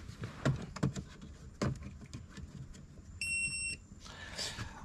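A TOPDON OBD2 dongle plugged into a car's diagnostic port gives a single clear electronic beep lasting about half a second, with faint thumps and handling noise before it.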